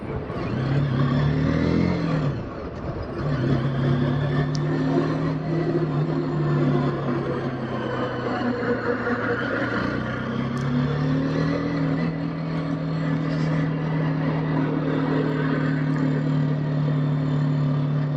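A TVS Apache RTR 310 300 cc motorcycle drones at a steady pitch in third gear on cruise control at low speed. The engine hum holds even and close, with wind noise and no throttle changes.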